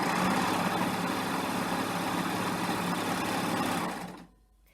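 A serger stitches a 3-thread rolled edge along lightweight sheer fabric, a loud, dense, continuous mechanical whir up close that cuts off sharply near the end.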